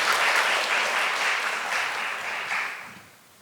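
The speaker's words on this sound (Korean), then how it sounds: "박수로 맞아주시면 감사하겠습니다." Applause from a seminar audience in a corporate governance conference hall, a full burst of clapping that holds steady and then tapers off toward the end.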